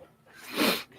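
A single quick sneeze, fairly soft, with a breathy burst in the middle and little else around it.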